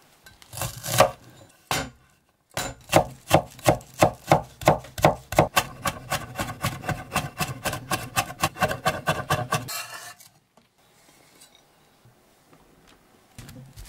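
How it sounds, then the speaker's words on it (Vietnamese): Rapid, steady knife chopping on a cutting board, mincing shallots and garlic, a quick run of sharp rhythmic taps lasting several seconds, then quieting to a few scattered knocks. "Hành tím và tỏi thì mình băm nhuyễn ra."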